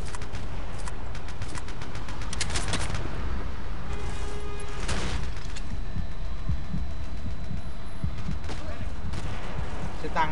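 Machine gun fire in Battlefield 2 rattles in dense bursts over a constant roar of battle noise, with rapid cracks clustering in the first half.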